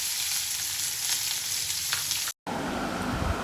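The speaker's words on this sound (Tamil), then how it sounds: "எண்ணெய் சூடானதும் ஒரு 1/4 டீஸ்பூன் கடலைப்பருப்பு, கொஞ்சம் கடுகு, 3 பச்சை மிளகாய், ஒரு 3 காஞ்ச மிளகாய் தூக்கி போட்டுக்கோங்க" Chana dal, mustard seeds and green and dried red chillies fry in hot oil with a loud, continuous crackling sizzle up close, broken by a brief silent cut before the frying resumes.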